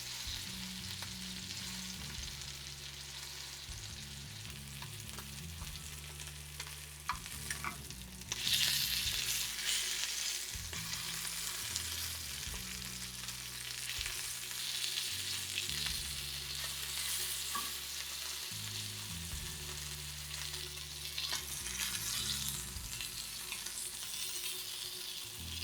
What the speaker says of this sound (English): Once all of the sides of the meat have been browned, turn off the stove and set aside.